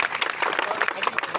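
An audience at an outdoor welcome ceremony for a Shekhawati University student panel in Shobhasar applauds, a dense, loud patter of many hands clapping at once, close and continuous.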